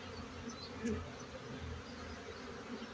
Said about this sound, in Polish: Tam pszczoły siedzą na maksa na tym drzewie.